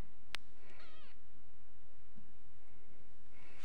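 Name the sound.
small kitten crying, meowing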